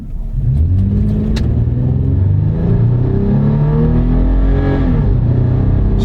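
A Toyota car accelerates hard at full throttle from a stop, its engine note rising steadily through the gears with a smooth shift midway, loud and close throughout with no talk.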